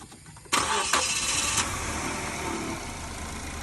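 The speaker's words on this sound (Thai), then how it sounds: "ลองสตาร์ทเครื่องนะครับเอาเสียงเครื่องดูนะครับ" A 2012 Mazda 2 1.5 automatic engine cranks and catches, then settles into a steady idle hum, close by and moderately loud.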